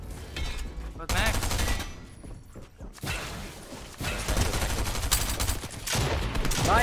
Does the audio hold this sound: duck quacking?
no